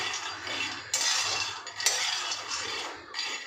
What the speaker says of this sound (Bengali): এখন গরম কড়াইয়ের মধ্যেই একটু সময় নাড়বো